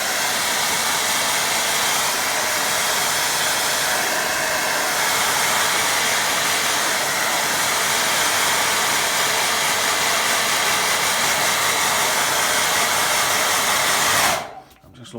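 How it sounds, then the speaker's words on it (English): A hair dryer blowing over a wet watercolour painting, a loud, steady whooshing roar held close for about fourteen seconds before it cuts off abruptly, with no talking. "let's give that a dry and see what it looks like"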